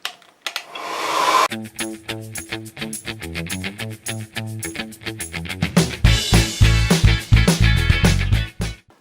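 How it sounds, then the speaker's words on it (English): A hair dryer blows loudly and continuously, drying glue on a craft box, its motor whine and rushing air rising and falling in intensity, growing stronger toward the end. "Now you can already speed up the process of drying by using your hair dryer."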